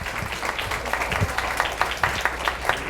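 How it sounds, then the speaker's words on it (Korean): Audience at a Korean medicine tourism forum clapping as a speaker comes forward; moderately dense, uneven clapping with distinct individual claps standing out, close and continuous throughout. "본부장님 앞으로 나오실 때 박수 좀 크게 부탁드릴게요"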